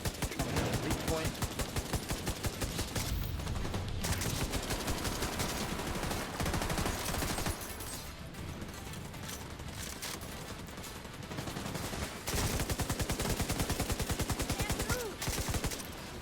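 Sustained light machine gun fire in a video game, rapid rhythmic bursts rattling almost continuously, pausing briefly around eight and eleven seconds before resuming loud and steady.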